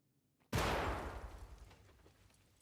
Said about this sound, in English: I'm gonna say nade's coming in